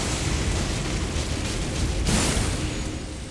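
An enemy fire attack explosion in the video game Elden Ring roars as a loud, dense, sustained blast of broadband noise, with a sharper surge midway.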